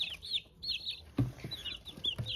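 Chicks being moved into boxes for the night give high, thin peeps in repeated short bursts, close but soft, with a few low thumps and rustles of handling beneath.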